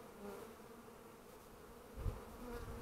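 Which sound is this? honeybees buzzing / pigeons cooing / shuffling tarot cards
honeybees buzzing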